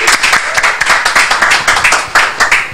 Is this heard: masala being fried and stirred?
no